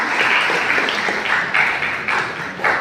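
Applause from the audience at a Tamil association book-review gathering in Bengaluru, a dense steady patter of many hands clapping together, moderately loud and continuous for a few seconds, with no talk over it.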